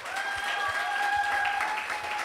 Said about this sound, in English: Let's give her a nice big round of applause.